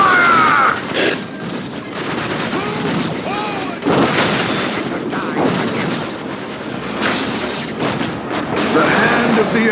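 Gunfire volleys crackle and boom through a battle in the Warhammer 40,000 Dawn of War Winter Assault strategy game: dense, loud rattling shots and heavier thuds overlap continuously, mixed with in-game voices.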